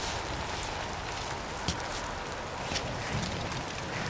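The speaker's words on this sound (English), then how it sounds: "it's raining. It's raining an awful lot these days" Rain falling in the video game Cairn, a dense, even hiss of steady rainfall with occasional faint drops or taps, continuous and moderately loud without talk.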